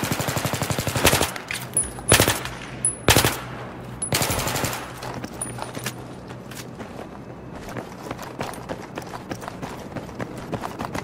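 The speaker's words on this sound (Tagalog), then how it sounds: "rinig nyo yung mga sounds ng bullets, yung mga explosions, yung mga pagputok, pagsabog sa likod" Gunfire and explosions from the Battlefield 3 video game arrive as loud sharp bursts of rapid shots and blasts early on, then give way to quieter scattered shots and clatter, with no voices.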